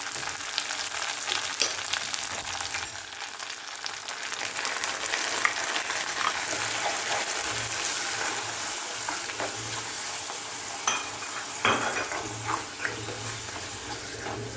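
Drumstick leaf curry with ground paste sizzles in a pan while a spoon stirs and scrapes through it, a steady close frying hiss with intermittent stirring knocks and no voices.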